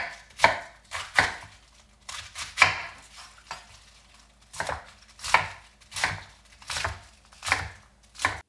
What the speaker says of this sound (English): And then we just chop this down into bite-sized pieces,